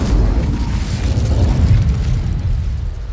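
Incendio fire spell cast in a magic adventure game, a loud rumbling whoosh of flame that stays steady and low for a few seconds with no voices.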